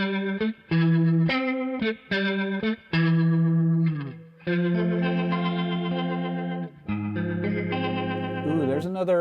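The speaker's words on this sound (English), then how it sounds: "the other guitar is kind of a B3 sound, but it's a faster Leslie than that" An electric guitar played through a fast-spinning, B3 organ-style Leslie effect, warbling and chorused, picks out short choppy chords and then longer sustained ones, with a brief spoken voice in between.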